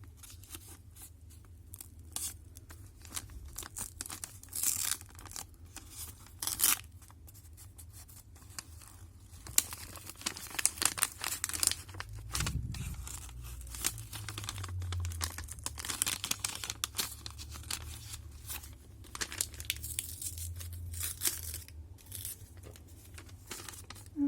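A small paper envelope from an advent calendar is handled and torn open up close, with soft crinkling, rustling and tearing of paper continuing quietly for a long stretch in a hushed setting.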